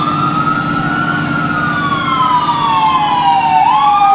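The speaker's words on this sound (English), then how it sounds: "The sound of sirens and..." An ambulance siren wails, sweeping steadily up and down in pitch, loud and continuous over a low vehicle rumble, with no voices.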